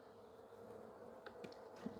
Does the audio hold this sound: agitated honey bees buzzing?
yes